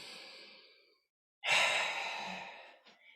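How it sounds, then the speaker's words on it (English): A deep breath during a functional strength workout: an airy exhale, a brief silence, then a louder, longer breath close to the microphone. "take a nice deep breath"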